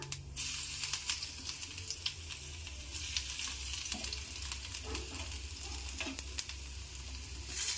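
Panch phoron spices and garlic sizzle in hot oil, a steady, crackling fry with scattered sharp pops and a faint stirring scrape, heard close up with no talking.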